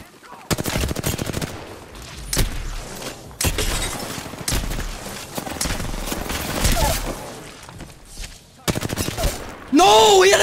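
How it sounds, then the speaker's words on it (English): Rapid automatic gunfire and sharp shots in the Apex Legends battle royale game ring out in dense bursts, loud and close, with game sound effects and a rising electronic tone near the end. "Oh, they're getting shot in the back."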